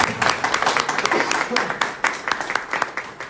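Dense, steady clapping from a crowd at an exhibition opening in Ankara fills the clip with sharp overlapping hand claps, some louder bursts standing out, and a voice faintly underneath.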